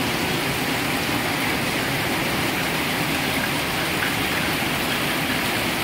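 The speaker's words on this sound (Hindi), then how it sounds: "आज बहुत जोर वर्षा होती" Heavy rain pours down steadily in a village, a loud, dense, unbroken hiss of falling water with no pauses.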